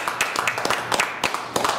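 A small audience at a university regents district forum gives a panelist sparse, scattered applause, a handful of distinct nearby claps in uneven rhythm at moderate volume.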